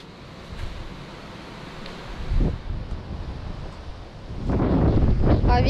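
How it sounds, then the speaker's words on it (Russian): Strong wind gusting over a river on the Pripyat, a broadband roar that swells near the end, with a brief gust in the middle; someone speaks during it. "Ветер все сильнее и сильнее, слушайте."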